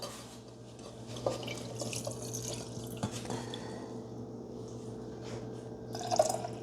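Liquid wax pours in a soft continuous trickle with light splashes and drips, close but quiet, with no talking.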